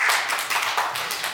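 A room full of people at a church service claps steadily, a dense, even round of applause with no voices.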